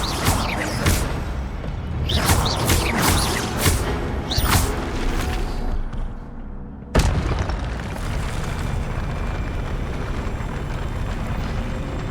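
Fiery spell blasts from Hogwarts Legacy, a string of loud booming bursts with whooshing flares over a rumbling magical background, then a sharper bang near the end followed by a sustained roar.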